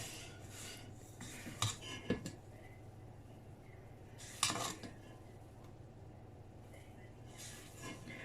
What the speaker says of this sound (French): Donc prenez le temps de bien mélanger votre génoise sans la refaire retomber